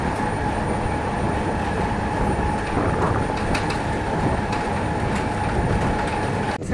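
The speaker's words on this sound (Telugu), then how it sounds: "అదేనండి మన సింహాద్రి మెమో ఎక్స్ప్రెస్ వచ్చేసి" The Simhadri MEMU Express between Visakhapatnam and Guntur runs along the tracks, a loud continuous rumble of wheels on rail with faint clicks and a light squeal, close and steady throughout.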